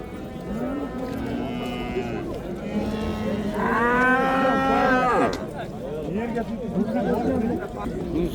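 Oxen and cattle lowing at a busy Uzbek rural livestock market in Chiroqchi district, with several drawn-out moos, one loud and close, rising over a steady crowd murmur and people talking nearby.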